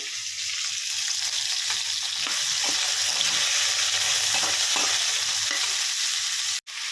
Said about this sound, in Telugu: మనం పెట్టుకున్న దొండకాయ ముక్కల్ని తీసి ఈ పోపులో వేసేద్దాము